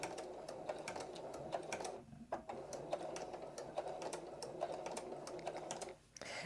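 A domestic sewing machine runs continuously back stitching homespun rag quilt fabric, a steady rapid clatter of needle strokes near and fairly quiet, with a brief pause partway through and a short dip near the end.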